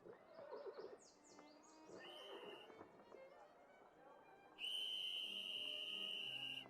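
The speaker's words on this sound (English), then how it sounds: "That cop doesn't have a whistle, but was blowing a whistle, so that's weird." Police whistle in the Sherlock Holmes Versus Arsène Lupin video game, a loud sustained shrill blast in the final seconds after street ambience with horse whinnies, hooves and chirping, with voices talking underneath.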